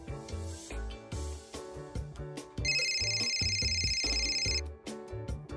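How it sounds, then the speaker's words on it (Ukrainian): A telephone rings for about two seconds with a steady electronic tone over ongoing background music, no voices. "О, а от і дзвінок від послуги моя реклама."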